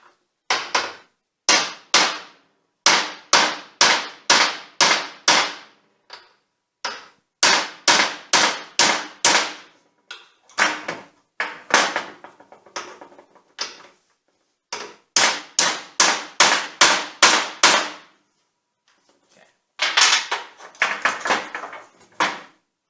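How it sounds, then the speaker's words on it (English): Sharp metallic hammer blows knocking a U-joint out of a drive shaft, struck in rapid bursts of five to ten, separated by short pauses, loud and close. "now we can remove the U-joint from the drive shaft with a hammer"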